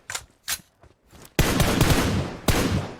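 Rapid gunfire in the battle royale game PUBG Mobile, a few sharp shots followed by a loud, sustained burst of automatic fire and one more crack at the end, close and prominent.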